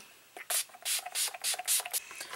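Several quick hissing spritzes from a facial spray bottle in fast succession, close and crisp, each a short burst of mist.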